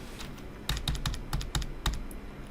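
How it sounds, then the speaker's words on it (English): Quick keystrokes on a computer keyboard entering an IP address on a Raspberry Pi 4, a close series of crisp clicks in an uneven rhythm, with no talk. "And I'm gonna type the IP address for this one."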